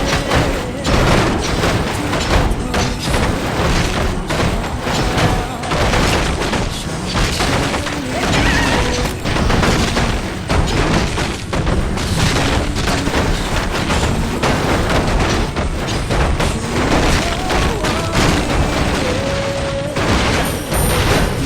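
Dense, continuous barrage of explosions and gunfire as forces come under attack in a video game, loud booms and rattling shots packed tightly together without letup, with occasional tonal game sounds layered on top.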